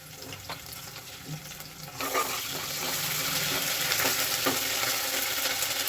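Shallots and ginger frying in a pan for tomato rice, a soft hiss that swells louder and denser partway through, with faint stirring scrapes underneath.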